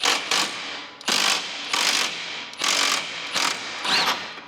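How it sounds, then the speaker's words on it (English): Impact wrench removing a 3/4 inch nut on a John Deere E120 riding mower, firing in several short, loud rattling bursts separated by brief pauses, heard close with no talking. "I'm gonna take that nut off. It is a 3/4 inch nut. Use my impact."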